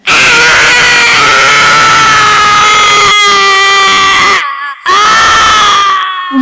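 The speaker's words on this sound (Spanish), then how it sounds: "Chilló entonces por segunda vez." A creature's loud, drawn-out scream of despair, used as a sound effect in a Spanish audiobook, howls with a strained, wavering pitch, breaks off briefly, then rises again.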